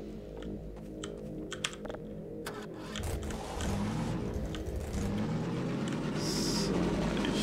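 Car driving in Half-Life 2 Episode Two, engine rumble building and growing louder midway, with clicks and clatter over it early on and no talk.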